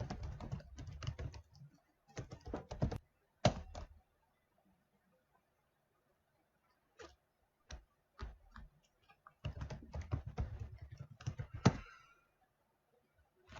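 Keys clatter in quick bursts on a computer keyboard, close and quiet, with clusters of rapid typing separated by pauses and a few single taps in the silence between.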